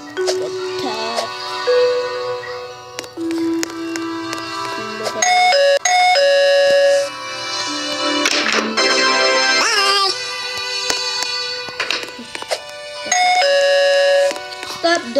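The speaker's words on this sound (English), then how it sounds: "Doorbell." Repeated electronic doorbell chimes ring out in bright tonal bursts in a Roblox pizza place game, with game music and sound effects layered around them.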